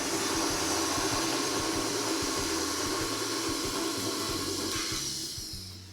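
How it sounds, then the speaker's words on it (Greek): An electric mixer whirs continuously with a loud, steady hiss and motor hum while whipping dessert cream, then winds down near the end as it is switched off. "Σταματάω το μίξερ, καθαρίζω τα τυχώματα."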